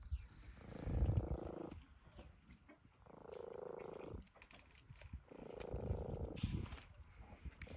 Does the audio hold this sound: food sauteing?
no